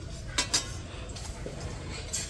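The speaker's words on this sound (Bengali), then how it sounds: "প্লেটটা তুলে নিলাম" A plate is lifted from a home kitchen counter while making semolina poa pitha, giving two quick, close, light ceramic clinks, then one faint clink near the end over a low steady hum.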